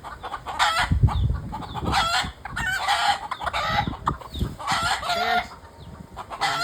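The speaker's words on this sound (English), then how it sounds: "She's not a rooster, but that one is a rooster." A noisy flock of chickens clucks and squawks continuously at close range, with a rooster among them, the calls overlapping in a busy, steady chatter.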